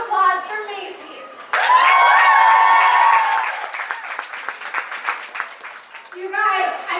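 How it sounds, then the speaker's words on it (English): An audience at an evening party with a panel event bursts into loud, sustained applause and cheering for the sponsor Macy's, lasting several seconds. A presenter's voice is heard just before and after the clapping. "Can we all give a round of applause for Macy's?"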